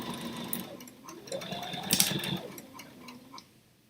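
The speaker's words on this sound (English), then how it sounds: "I'm going to back stitch it that time, just so that I can make sure that it stays more stable" A sewing machine runs a back stitch, a quiet rapid mechanical ticking that starts, pauses and resumes in short bursts, close by with no talk.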